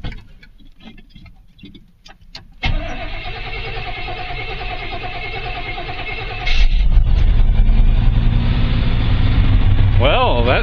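A truck engine fitted with a new Edelbrock carburetor in place of a Quadrajet cranks over, then catches and runs at a loud steady idle, with a rev rising toward the end.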